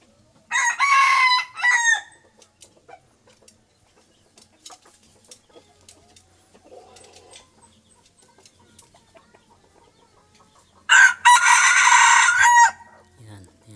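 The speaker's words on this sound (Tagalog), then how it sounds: "Tilaok niya." A rooster crows twice with long gaps between, the calls loud and close, separated by near silence and faint rustling.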